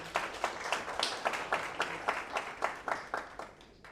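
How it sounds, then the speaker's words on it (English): Audience clapping for themselves in a room during a cyber-space misinformation talk: a small group clapping in a fairly steady rhythm of distinct, closely spaced claps lasting about four seconds. "Clap for yourselves."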